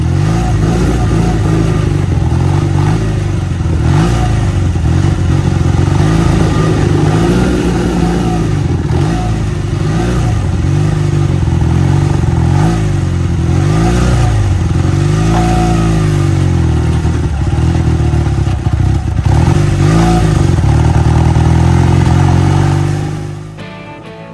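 A loaded touring motorcycle on a camping trip riding away, its mid-pitched engine revving up and down through gear changes, loud and close throughout before cutting off abruptly at the end.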